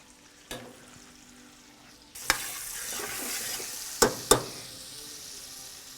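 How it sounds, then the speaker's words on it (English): Vegetables fry and caramelize in a pan for lamb stew, a quiet sizzle that grows louder midway, punctuated by a few sharp clacks of a utensil against the pan. "I smell those veggies caramelizing."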